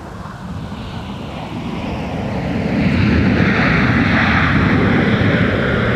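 An airliner rolls for takeoff on runway 17 at Minneapolis–Saint Paul airport in winter, a broad engine roar that grows steadily louder over several seconds and holds strong at the end.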